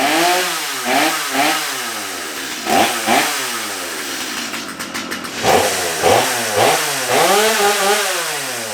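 A restored old chainsaw engine running close by, revving up and down in repeated bursts, with a rough two-stroke buzz that rises sharply and falls back to idle several times.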